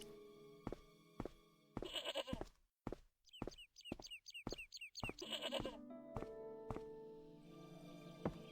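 Goat bleats from the Broken Sword video game, several short sharp calls in a burst mid-clip with gaps of silence, set against a quiet game music background.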